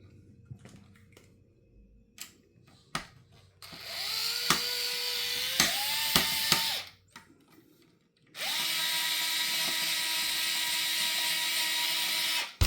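A power screwdriver driving screws while assembling an RC car front end, two whirring bursts rising in pitch, the second long and steady, with small clicks and handling taps between them.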